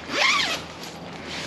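A tent zipper pulled open in one quick rising zip, close and fairly loud, followed by quiet.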